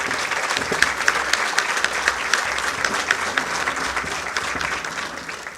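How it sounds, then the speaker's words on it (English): Sustained applause from a seated audience at a felicitation function honouring the Chief Justice of India, dense steady clapping that fills the hall without a break for several seconds. "please give a big round of applause to the Honorable Chief Justice of India"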